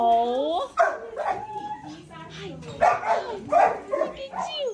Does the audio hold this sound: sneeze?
no